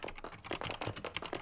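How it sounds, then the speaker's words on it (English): Computer keyboard typing, quick irregular clicks of keys being struck, close and fairly quiet, a rapid run of keystrokes without talking. "My keyboard currently makes sounds in my browser"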